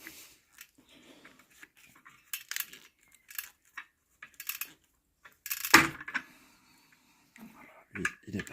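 Metal centering pins for a B58 engine's flywheel and reinforced clutch drop with a sharp metallic clink, set among scattered small taps and clicks of parts being fitted. Faint talk is heard between the knocks.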